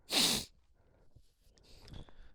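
A single loud, sharp sneeze bursts out at the start, followed by quiet breathing and faint rustling.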